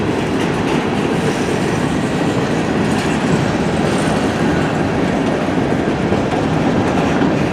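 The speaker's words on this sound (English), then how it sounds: "It's a long train." A long CN mixed freight train rolls past up close, a loud, steady rumble of wagons and rhythmic clickety-clack of wheels on rail filling the whole stretch without letup.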